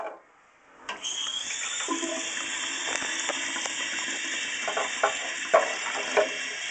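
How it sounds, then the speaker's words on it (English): Water from a sink tap running onto a piece of asbestos set in the sink: a sudden gush starts after a short quiet, then a steady close rush with occasional splashes and drips. "I'm going to set it in the sink and I'm going to run water on it"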